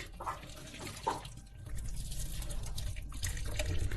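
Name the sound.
draining boiled pasta water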